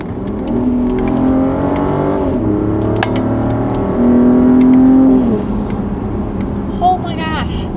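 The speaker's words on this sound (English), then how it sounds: "That's so loud. New exhaust." A BMW X5 with a new sport exhaust revs loudly with a deep, rumbling exhaust note that rises and falls, while people talk over it close by.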